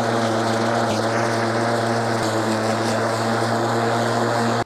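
A battery-powered lawn mower cuts grass with a loud, steady motor drone and a constant blade whir, close by and continuous, with no pauses and no speech.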